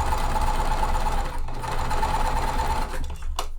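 A sewing machine stitches quilt pieces together, half-square triangles. Its rapid mechanical whir runs steadily, dips briefly, resumes, then stops near the end with a few small clicks.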